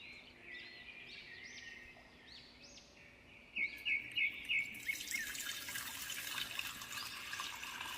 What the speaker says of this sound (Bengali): এত জল তুমি কি করতে মেশাচ্ছ?